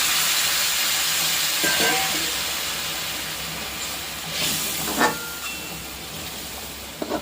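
Hot water poured into spice masala frying in oil sets off a steady, broad hiss of sizzling and steam that holds at moderate loudness, with a few brief louder spits and bubbles partway through.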